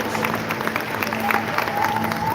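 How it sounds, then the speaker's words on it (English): An audience applauds as dignitaries come on stage at a live public event, with steady, moderately loud clapping and crowd noise throughout the brief moment. "can we have a huge round of applause for our dignitaries as we grace the stage?"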